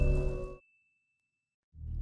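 A single notification bell dings and rings out thinly while the background music drops to silence, and then the music comes back.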